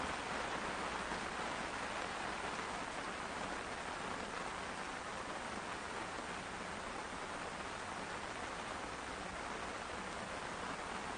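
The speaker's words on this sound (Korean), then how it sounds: "비가 옵니다." Steady, dense rain pours down outdoors during a typhoon at a fishing campsite, a continuous even hiss on surfaces with no pauses throughout.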